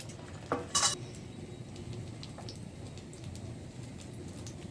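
An egg cooks with tomato in a pan in a home kitchen, giving a soft, steady sizzle, broken early by a brief metallic clatter of a utensil against the pan.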